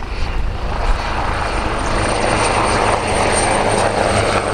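Heavy helicopter of about 6.8 tonnes flying past at roughly 130 knots with gear retracted at an air show, giving a loud, steady broadband rotor roar and whine that holds throughout with no talk.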